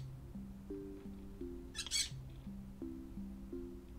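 In the Stardew Valley video game, a single short, loud bird squawk bursts out midway over soft, looping game music.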